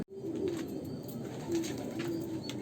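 Andhra pigeons coo in a pigeon loft, a short, fairly quiet run of low rolling coos from several birds nearby, with no talk.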